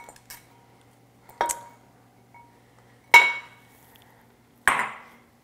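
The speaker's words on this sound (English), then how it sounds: "I'm gonna put that in the crock pot." A quartered, peeled onion lands in a crock pot in a few separate knocks and clinks, each a short, close, hard impact against the ceramic, with quiet gaps between.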